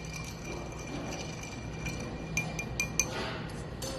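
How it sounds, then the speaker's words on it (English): A cocktail is stirred over ice in a glass, giving a scatter of light clinks and taps that cluster near the end over a soft background hiss, close and fairly quiet. "Just take all that and stir that all over ice."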